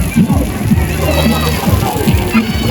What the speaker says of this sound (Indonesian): Kucing main pancuran kawan-kawan